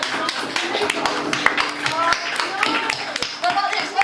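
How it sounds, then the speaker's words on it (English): Crowd at a live comedy show clapping along in a steady rhythm, sharp repeated claps spread across the room, mixed with voices and laughter underneath. "Should we get everyone to clap?"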